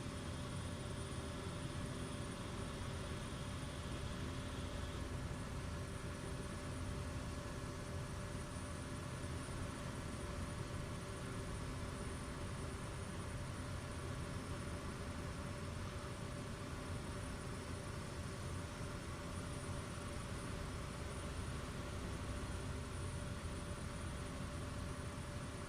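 A steady, loud aircraft engine drone from Microsoft Flight Simulator 2024 near Szczecin-Goleniów Airport, continuous and unchanging throughout with a constant hum and no speech.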